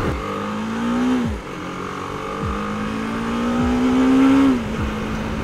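A BMW G310GS motorcycle engine screams at high revs above 7000 rpm, climbing in pitch and holding a shrill tone before dropping off, then revving up again, loud and close.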